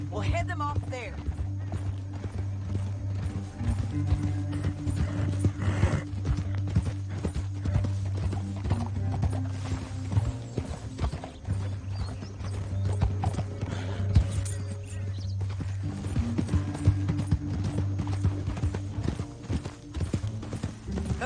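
Steady, continuous clip-clop of horse hooves trotting close by in Red Dead Redemption 2, rhythmic and unbroken, over a low droning background.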